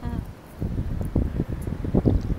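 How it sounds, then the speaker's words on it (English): Gusty wind on a beach in Nosara, Costa Rica buffets the microphone in uneven low rumbles, blowing sand, rising and falling throughout, with a voice briefly audible at the start. "it's really windy and the wind is blowing sand"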